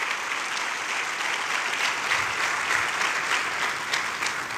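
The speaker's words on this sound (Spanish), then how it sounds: "denle un aplauso fuerte al Señor." Church congregation applauding strongly during a sermon, dense even clapping from many hands, steady and close, with no voices over it.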